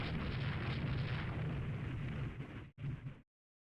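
Naval gunnery in the video game Rule the Waves 3: a long, dense, rumbling barrage of cannon fire, loud and continuous, then a brief break, one more burst, and a sudden cut to silence.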